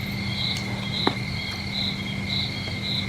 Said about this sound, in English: you can hear like the crickets chirping